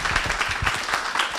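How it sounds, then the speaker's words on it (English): An audience applauds to welcome Patrick Awuah at a campus dialogue session, a steady, moderately loud round of many hands clapping that carries on throughout without speech. "Let's receive Patrick with a round of applause."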